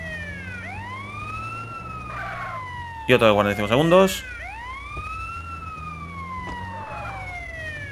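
A wailing ambulance siren in GTA San Andreas rises and falls in long sweeping cycles, steady and fairly close, broken midway by a short burst of louder noise while a voice speaks over it.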